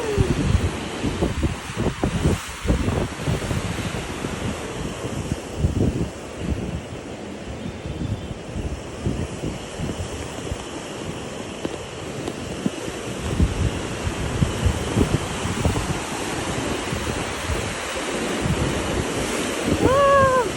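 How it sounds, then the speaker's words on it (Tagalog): Ocean waves crash and wash continuously onto the shore, with steady surf roar and wind buffeting the microphone throughout. "Matakot yung mga alon!"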